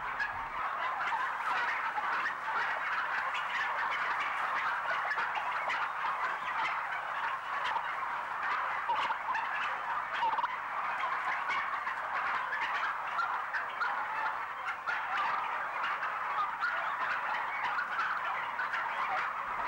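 Crowded UK turkey farm shed full of farmed turkeys gobbling continuously, a dense, steady chorus of many birds close by with no pauses and no voices.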